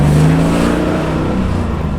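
A 1976 Holden Torana LX SLR 5000 revs hard up close, its loud, throaty engine note holding steady and then easing slightly over about two seconds.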